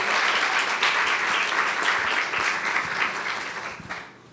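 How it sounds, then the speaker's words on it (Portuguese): A full round of applause at the opening session of a tax law symposium, many hands clapping steadily and close for about four seconds before fading out at the end. "Eu peço uma salva de palmas para ele."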